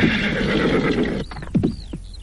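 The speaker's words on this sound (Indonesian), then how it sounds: "Kuda kita tidak sebaik kuda Adi Wulan." A horse neighs loudly and close by, a shrill whinny with falling calls, following a stretch of dense steady background noise.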